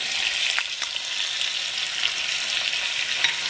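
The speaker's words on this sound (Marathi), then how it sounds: "थोडंसं तेलात एक अर्धा मिनिट परतून घेऊया" Garlic and chili paste sizzles and crackles in hot oil, a continuous bright frying hiss with a few sharper pops.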